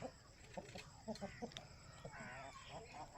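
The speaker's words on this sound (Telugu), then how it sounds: "ఇది ఒక పుంజు ఫ్రెండ్స్" A large short-nosed, long-tailed rooster kept with hens, giving a run of short, fairly soft clucks in an irregular rhythm against a quiet background.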